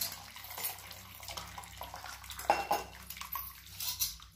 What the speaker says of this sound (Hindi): जो एक्स्ट्रा पानी है वो पूरा का पूरा छान लेंगे ऊपर से थोड़ा ठंडा पानी भी डालेंगे